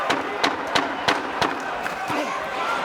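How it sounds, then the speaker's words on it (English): A boxing crowd at a title fight between Crawford and Kavaliauskas roars in a steady loud wash, punctuated by sharp bursts roughly every third of a second that sound like punches landing or fighters' movement. "This crowd is loving this title fight already."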